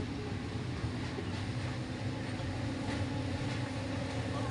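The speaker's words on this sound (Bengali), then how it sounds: "এই দেখো আমরা ট্রেন চলছি" A train runs steadily, its carriages rumbling and rattling in a dense, continuous roar heard from inside the moving train.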